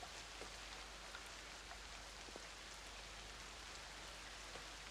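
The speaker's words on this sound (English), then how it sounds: "the wind is picking up, the rain is heavy" Steady rain hisses heavily in a dense, unbroken wash with scattered drop ticks and a low rumble underneath, constant and even throughout with no voices.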